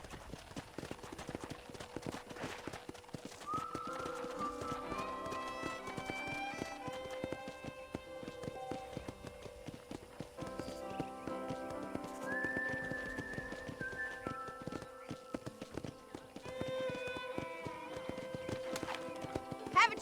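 Rhythmic horse hoofbeats in the video game Red Dead Redemption clip-clop steadily throughout, with a whistled tune and a brief horse whinny over the trotting.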